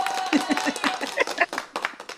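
A short burst of quick, rapid hand clapping, close and fairly loud, with a voice briefly mixed in.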